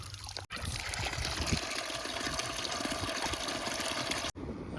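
Water running steadily into containers at a tap on a Gujarati farm, a continuous trickling pour that holds at an even level for several seconds between brief cuts.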